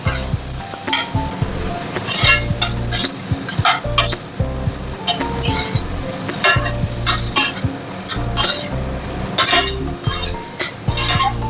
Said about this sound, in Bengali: রসুন চিংড়ি মাছ আর এই যে শুকনো লঙ্কাটা ভাজা হয়ে গেছে